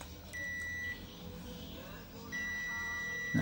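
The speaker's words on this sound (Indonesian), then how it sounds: "Oke, kita bawa ke posisi buzzer." A multimeter set to continuity buzzer mode, probing the pins of a shorted IC on a Chinese TV's circuit board, gives a steady high beep twice, a short tone and then a longer one, fairly faint against a quiet room.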